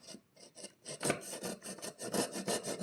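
A hand saw rasps back and forth through wood in steady, rhythmic strokes, close up and with no talking.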